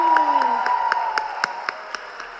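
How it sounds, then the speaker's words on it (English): Convocation audience at a graduation ceremony applauding graduates, sparse separate claps fairly far off, following a sustained tone at the start, with a brief cheer. "Big round of applause."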